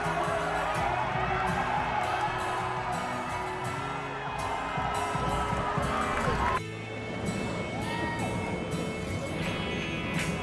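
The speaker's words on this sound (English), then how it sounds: "the crowd erupted. Filipinos screaming, flags waving, people jumping" A Filipino crowd at a tennis match in Toronto cheers and screams loudly in a dense, continuous roar, with a brief dip before the noise swells again.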